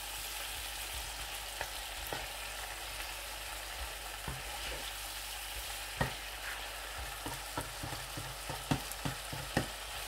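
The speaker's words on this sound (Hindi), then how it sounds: "हल्दी, नमक, मिर्च, सूखा धनिया, इस तरीके से इनको खूब मिक्स करूँगा।" Tawa chicken frying with turmeric, salt, chili and dried coriander, a low steady sizzle on the griddle with sharp spatula scrapes and clacks growing more frequent toward the end, no voices.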